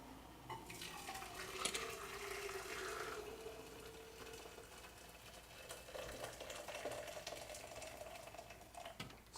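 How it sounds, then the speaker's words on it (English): Hot water poured into a Rite Press coffee maker, a steady faint splashing fill with a rising gurgle lasting several seconds, no talking. "So add some water."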